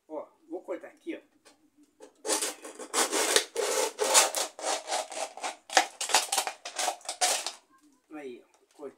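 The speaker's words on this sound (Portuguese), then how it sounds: "Agora eu vou cortar essa aqui, porque eu vou fazer só mais uma muda e vou parar." Plastic container being cut for a fruit tree seedling, a close, loud run of rapid scraping, rasping strokes lasting several seconds, with brief talk before and after.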